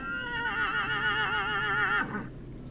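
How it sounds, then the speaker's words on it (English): A single horse whinny from the video game Vintage Story rings out close and clear, a wavering, quivering neigh lasting about two seconds before cutting off sharply. "we constantly have horses over here making noises."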